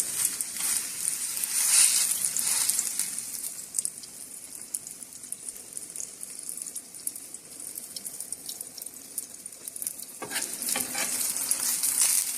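Egg burger filling fries in a pan, a bright, continuous sizzle up close, with occasional scraping stirs and a louder spitting burst near the end; no one speaks.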